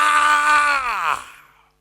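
A voice mimics a madman's anguished scream in a church sermon: one long, strained cry that sags downward in pitch and fades into silence.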